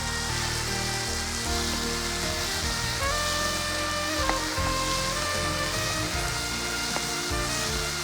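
A handful of coriander leaves sautéing in a hot pan, giving a steady, even sizzle that runs unbroken throughout, with faint tonal background sound.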